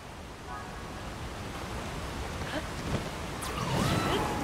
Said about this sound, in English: With your Zora armor, you can climb the waterfall as well.